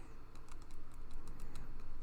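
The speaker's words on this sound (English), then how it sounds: "sorry, just typing real quick." Quick bursts of typing on a computer keyboard, a close run of rapid key clicks that grows slightly louder, with no voices.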